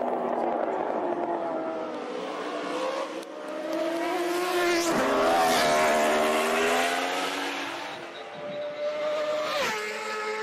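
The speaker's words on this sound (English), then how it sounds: "that sound of the engine at high RPMs just give me the chills" High-revving racing motorcycle engines at the Isle of Man TT road race, a loud continuous whine rising and falling as machines pass close by, with a person talking over it.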